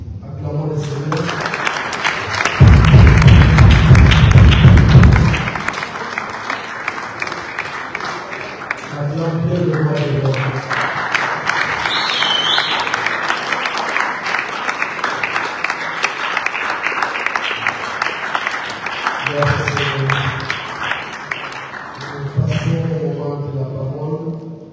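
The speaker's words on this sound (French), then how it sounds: "Acclamons le Seigneur" A church congregation applauding and acclaiming the Lord during a worship service, with sustained rhythmic clapping over several stretches, broken by shouts and voices rising between the bursts, loud and close throughout.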